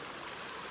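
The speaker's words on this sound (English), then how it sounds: "Nice little flow of water in the stream here." Water flows steadily along a small stream on a winter morning hike, a soft, continuous rushing and trickling heard close by with no voices.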